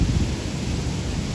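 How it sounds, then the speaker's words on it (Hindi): Thunder rolls as a low, continuous rumble through heavy stormy rain in Karachi, a dense noisy wash with no clear breaks over about a second and a half. "भाई बहुत तूफानी बारिश है,"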